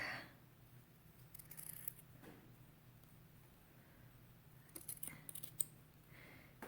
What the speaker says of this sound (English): And cut that out real quick.